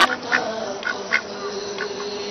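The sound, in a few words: duck quacking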